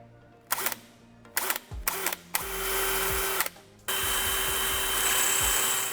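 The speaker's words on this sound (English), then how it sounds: "we're gonna drill a 1/4 inch hole here, right onto our punch" A power drill whirs in short bursts, stopping and starting a few times, then runs steadily for a longer stretch, drilling a quarter-inch hole during a 2018-2022 Ford Mustang cooling kit install; close and fairly loud.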